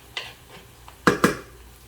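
Onions and garlic being stirred in a cooking pan: two sharp metallic scrapes of a utensil against the pan close together, with a few lighter clinks before them, in an otherwise quiet kitchen.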